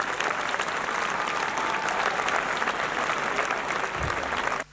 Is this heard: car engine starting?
no